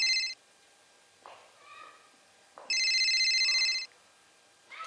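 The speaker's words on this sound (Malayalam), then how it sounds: "എന്ത് പറഞ്ഞാലും ഫോൺ അടിക്കണാരാ?" A phone rings in two loud electronic bursts of trilling tone separated by a quiet gap with faint murmurs, close by and dominating the room.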